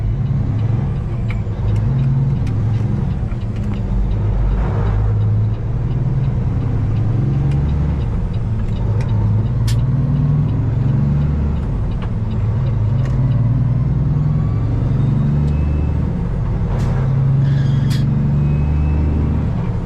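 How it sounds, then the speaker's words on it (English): Loaded dump trucks pull out of a quarry and roll past on the road, a steady heavy diesel rumble and tire roar heard continuously from inside a truck cab, with faint clanks and brake hisses. "Got all the dump trucks coming out of the quarry, coming this way."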